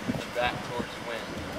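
Outdoor wind buffeting a microphone at a child's birthday gathering, a low rumbling gusty roar that swells and fades, with people talking over it.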